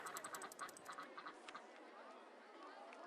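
Cartoonish duck quacks from the duck tram ride in the RollerCoaster Tycoon video game, a quick run of bright honks over faint crowd chatter that fades into a soft background murmur.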